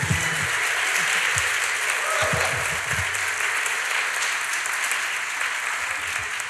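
A church congregation applauds after a sermon, a steady, even wash of many hands clapping that carries on for several seconds with a low voice faintly underneath.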